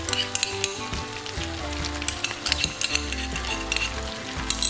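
A pan of onions, garlic, capers and olives sizzles and fries steadily for a Maltese swordfish sauce, with occasional stirring clicks and scrapes close by and no voices.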